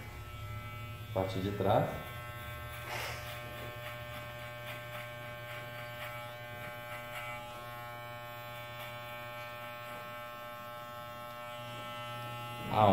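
An electric hair clipper fitted with a number 1 guard buzzes steadily while cutting hair for a skin fade haircut, a close, continuous hum with someone speaking Portuguese over it.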